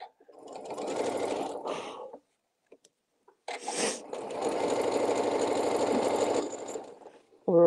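Two runs of a sewing machine stitching a table mat, a short burst of close rapid whirring, a pause of near silence, then a longer steady run.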